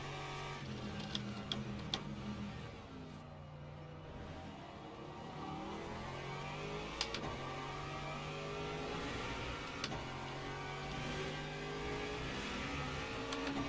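Hypercar engines in a sim racing game, a faint, continuous engine drone with shifting pitch and occasional revving, and no one speaking.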